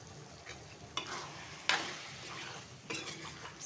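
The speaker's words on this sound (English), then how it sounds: "Stir it very well and let it cook on low heat." A spoon scrapes and stirs through mutton curry simmering on low heat, giving a few distinct clinks against the pot over a faint, soft sizzle, close up and with no voices.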